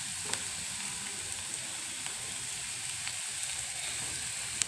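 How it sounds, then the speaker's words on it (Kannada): Upsaaru, a Karnataka lentil-and-greens curry, simmers in a pot with salt just stirred in, giving a steady, even sizzling hiss with a few faint clicks throughout and no voices. "ಹಾಗೆ ಇಲ್ಲಿ ಉಪ್ಸಾರು ಬೇಯ್ತಾ ಇದೆ ನೋಡಿ."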